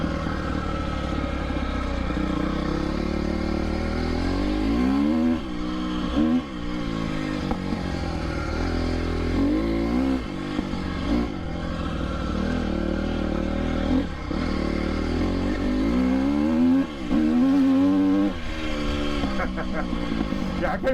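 A motorcycle ridden around a yard, its engine droning loud and close, rising and falling in pitch as the rider revs and shifts, held in low gears throughout.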